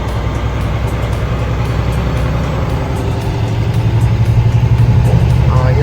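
A semi truck rolls along a snowy South Dakota road, heard from inside the cab as a steady, loud, low engine drone with road rumble throughout.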